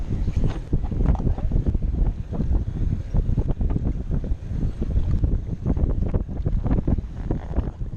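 Small boat motoring on open water, a steady low engine drone mixed with wind buffeting the microphone and choppy water, with occasional voices faintly under it.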